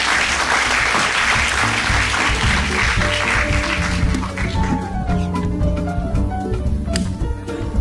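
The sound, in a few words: round of applause for a speaker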